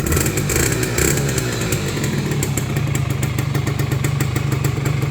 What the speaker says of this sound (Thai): รถ เดิมๆเสียงจะเป็นประมาณนี้นะครับโนวานะครับโนวาแดด